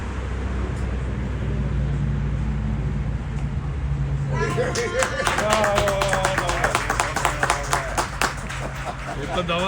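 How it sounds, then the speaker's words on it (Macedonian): Spectators clap at an amateur football match between FK Vodno and FK Karev, scattered outdoor applause breaking out midway over steady background hum and nearby conversation. "Ета даваат аплауз."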